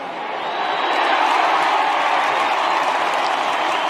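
A stadium crowd roars and applauds after a Richmond goal at an AFL football match, a broad sustained wash of cheering that swells within the first half second and holds loud and dense, with no talk over it.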